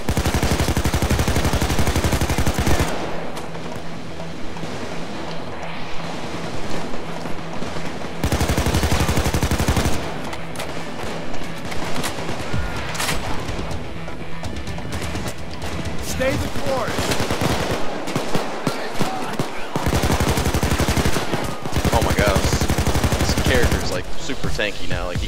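Gunfire in the video game Payday 2 during a Firestarter heist, from a double-barrel shotgun among other weapons: loud bursts of rapid shots broken by short pauses, repeating across the stretch.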